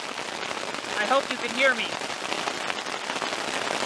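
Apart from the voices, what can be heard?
hail battering a tent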